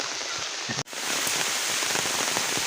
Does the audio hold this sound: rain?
yes